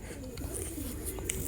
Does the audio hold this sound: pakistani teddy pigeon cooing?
yes